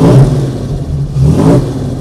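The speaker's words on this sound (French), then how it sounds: "là on entend tout de suite la sonorité de l'échappement" Jaguar XK 140 with its XK straight-six engine, exhaust note as the throttle is blipped: a deep, steady rumble that swells twice in short revs, close and loud, with no talking.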